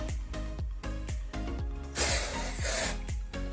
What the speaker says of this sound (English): I'll take my dry shampoo and I will just spray it